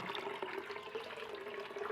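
Water runs steadily from a tap as the supply returns, a soft continuous splashing and trickling at moderate distance with no voices.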